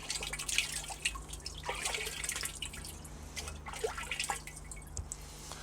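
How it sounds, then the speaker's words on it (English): Rainwater dripping and trickling into a water butt outdoors during rain, faint irregular drips and splashes over a low steady hum, with no talking. "As it's raining outside, I'll just show the water coming into the water butt."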